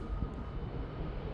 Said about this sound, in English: we also got an incoming plane